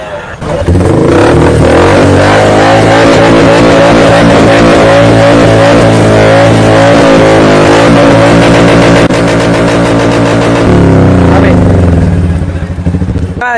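A vehicle fitted with a modified silencer revs loud and close, its engine roaring and crackling almost without a break, and a voice is heard during the revving.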